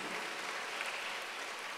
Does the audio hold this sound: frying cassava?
no